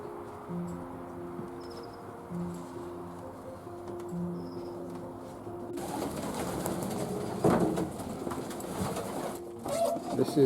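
Young racing pigeons in a loft shed coo in low, repeated murmurs, then rustling and shuffling noises build up as the birds stir.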